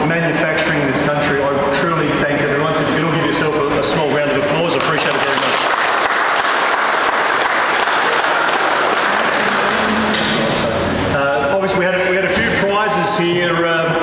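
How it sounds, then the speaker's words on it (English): An audience at a Holden car show event claps in sustained, loud applause, with a voice speaking over the clapping at the start and again near the end. "So if you can all give yourself a small round of applause"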